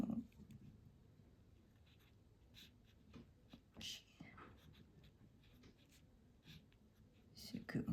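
A broad-nib fountain pen filled with Pilot Iroshizuku Shin-kai ink scratches across paper in faint short strokes, quiet and close, with soft breaths between.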